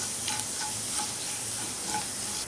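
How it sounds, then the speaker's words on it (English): Fennel, fenugreek and onion seeds sauté on a low flame, a steady soft sizzle with faint stirring scrapes, close and quiet, with no talking. "Now saute these ingredients on a low flame till they starts giving their aroma."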